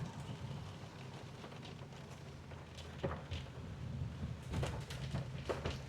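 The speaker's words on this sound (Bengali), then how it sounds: "তা সত্ত্বেও এতটা জোরে বৃষ্টি হচ্ছে।" Heavy rain pours in the hills along the Silk Route near Gangtok, heard from under tree shade as a constant soft rush with scattered louder drips and drops, faint and distant in character.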